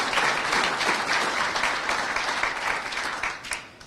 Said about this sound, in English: if we could give them a round of applause and thank them